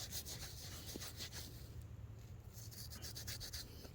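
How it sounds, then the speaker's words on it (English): A dirty old nickel coin, caked with lake muck and green, is rubbed on pants in a close, faint, continuous scratchy rubbing. "Let me rub it on my pants."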